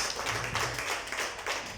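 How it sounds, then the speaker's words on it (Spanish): Church congregation breaks into applause, a short burst of many hands clapping together at moderate volume. "Den un fuerte aplauso a Cristo Jesús"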